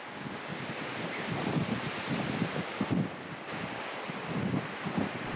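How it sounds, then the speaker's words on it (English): Strong, gusting wind batters the microphone on a fishing day in Patagonia, a steady roar with surging buffets that swell and ease throughout, close and loud, with no talk. "On their first day of fishing, Rolf and Eva experience an almost unnaturally windy day."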